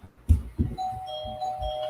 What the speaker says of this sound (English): somebody's hitting my doorbell